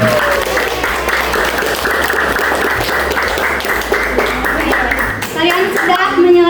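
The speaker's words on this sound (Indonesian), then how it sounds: "Sekarang tepuk tangan untuk kita semua." Continuous, loud classroom applause from junior high students after finishing a lesson game, packed rapid clapping that fades near the end as children's chatter and voices rise above it.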